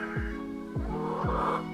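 Backyard chickens clucking near a coop, three close, loud clucks in a short, evenly spaced run with no talking.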